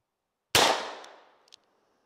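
A single sharp shot from a World War I Smith & Wesson M1917 revolver fired at a target 20 yards away, loud crack with a decaying ring-out and a faint metallic click afterward; no talk.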